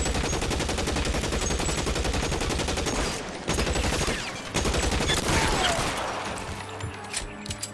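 Heavy gunfire from shooters in L.A. Noire at a house on North Las Palmas: loud, dense volleys of rapid shots that pause briefly, then resume before thinning out toward the end.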